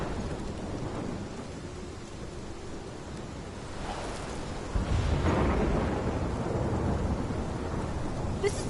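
Thunderstorm with rain in the video game Life is Strange: steady rain hiss throughout, then a loud rolling thunder crash near the midpoint that keeps rumbling heavily under the downpour to the end.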